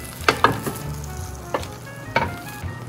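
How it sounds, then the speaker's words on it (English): Vegetables for salsa sizzle steadily as they roast in a hot pan, a continuous crackling hiss with a few louder bursts as pieces shift. "I'm hearing them sizzling a lot."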